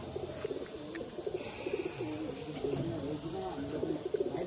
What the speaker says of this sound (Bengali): খুব সুন্দর পায়রা